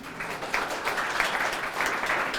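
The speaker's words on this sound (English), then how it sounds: "Big round of applause" A small audience at a writing awards celebration gives a round of applause, a brief, fairly even patter of clapping lasting a couple of seconds.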